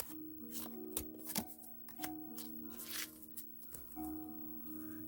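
Tarot cards riffled and shuffled in the hands, a quick run of papery flicks and snaps ending as a single card is drawn, close and fairly quiet over a soft background hum.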